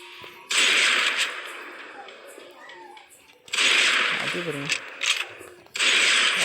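Sniper rifle shots fired in the Free Fire battle-royale game during a one-on-one room match: three loud, sharp-onset bursts with a lingering crackly tail, separated by quieter game ambience.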